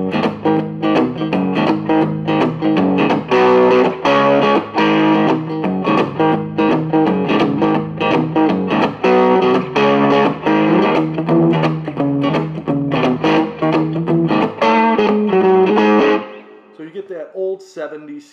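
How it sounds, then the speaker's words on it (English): Electric guitar played through an Orange CR60C amp set to an old-British crunch breakup with reverb, a continuous stream of distorted chords and notes for about sixteen seconds before ringing out and tapering off. "Style crunch breakup out of this amp, which is very tube-like to me"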